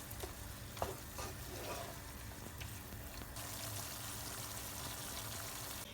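Steady sizzling in a pan with soft stirring and scraping of cream, a continuous close frying hiss throughout.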